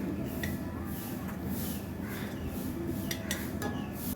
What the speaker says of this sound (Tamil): ஆட் பண்ணிவிட்டு நல்லா மிக்ஸ் பண்ணி விட்டுடுங்க.